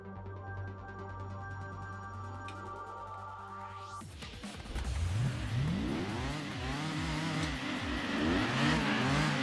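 Simulated car engine sound from Gran Turismo 2 for a four-wheel-drive car, starting as a steady synthetic drone. After a few seconds it jumps to loud, rising and falling revs through repeated gear shifts, with no voices.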